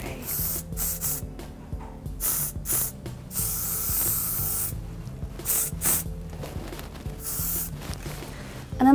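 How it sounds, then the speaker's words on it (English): Repeated short hissing bursts of hairspray from an aerosol can, close and bright, in quick pulses with brief pauses between them. "And then spray."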